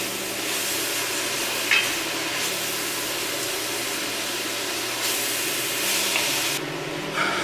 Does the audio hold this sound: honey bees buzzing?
no